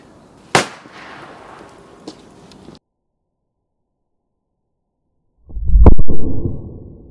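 Sodium-potassium liquid metal (NaK) explodes: a sharp crack with a smaller pop, then silence, then a loud, deep, rumbling burst near the end.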